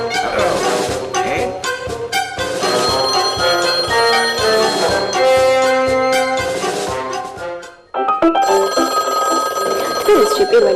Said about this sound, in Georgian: იყო ერთი ტელეფონი გაბმული ზარით